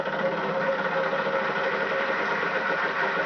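A spinning Wheel of Fortune wheel in a video game gives a steady, continuous whirring drone with a dense ticking texture, holding even loudness from start to finish with no speech over it.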